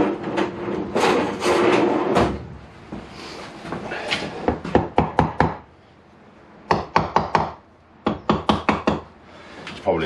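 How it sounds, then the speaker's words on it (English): A mallet taps the sump of a 1998 Kawasaki ZX9R motorcycle engine to loosen it, first over murmured talk, then in bursts of quick, sharp, close knocks with short pauses between them. "I'll grab a mallet and we'll give it a little tap."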